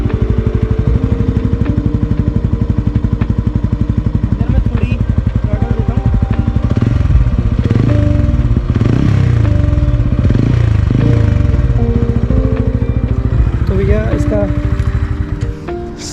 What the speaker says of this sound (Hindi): तो मैं इसका आपका एग्जॉस्ट सुनाता हूँ पहले एक बार।